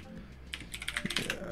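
A short burst of close, quiet computer keyboard typing, a quick run of separate key clicks building in pace after a brief lull.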